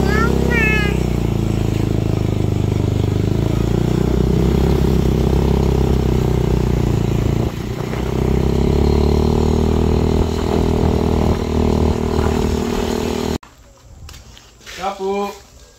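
Borrowed motorcycle on the move, a loud continuous engine drone with steady low rumble and wind noise for most of the stretch, ending abruptly before a short burst of talking.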